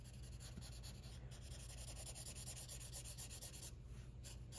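A marker rubs back and forth across paper while shading a shoe sketch, making continuous rapid scratchy strokes, close and soft, with no voices.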